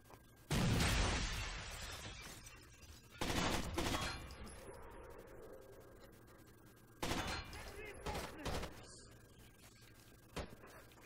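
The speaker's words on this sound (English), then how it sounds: "I don't know where he's fucking shooting me from" Gunfire from the video game Rainbow Six Vegas comes in loud, sharp bursts, each fading into a short echoing tail, with several separate volleys spread across the stretch and quieter gaps between them.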